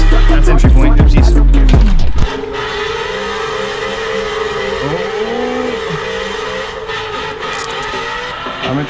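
A BMW wagon drift car's engine revs hard at first, then settles into a steady, sustained drone while the car slides, with tyre noise and wavering pitch.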